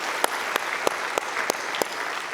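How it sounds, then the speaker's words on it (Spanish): Congregation applause during a church service, a loud continuous wash of clapping with a few sharp, evenly spaced accented claps cutting through, no talking over it. "se merecen un fuerte aplauso"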